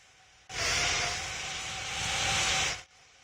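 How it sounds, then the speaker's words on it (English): Airplane engine in flight in a pilot-training flight simulator game, a broad steady roar that switches on abruptly, holds for about two seconds with a slight swell, then cuts out. "So now it's just a flying aircraft."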